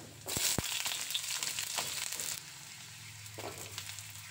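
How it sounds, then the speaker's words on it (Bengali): Cut potato pieces drop into hot oil in a pan, setting off a sudden loud sizzle that crackles steadily for a couple of seconds, then settles into a quieter, softer frying hiss. "তেলটা গরম হয়ে গেলে কেটে রাখা আলুগুলো তেলের মধ্যে দিয়ে আলুগুলো ভেজে নেব"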